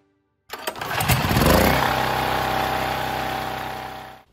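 Repaired generator engine, with a swapped spark plug and cleaned carburetor, pull-started and catching right away, then running at a steady, loud, close idle after a brief initial surge.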